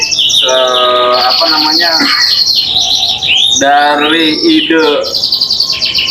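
Red canary singing in an Indonesian songbird setting, two bursts of bright trilling, chirping song, close and loud, with people talking underneath.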